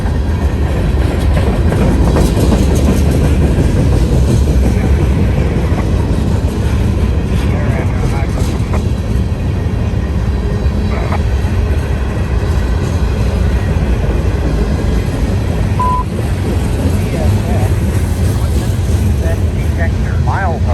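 Heavy freight train pulling hard as it accelerates on an elevated curve, a loud, continuous roar of diesel engines and rumbling wagons close by, steady for the whole stretch, with faint talk underneath.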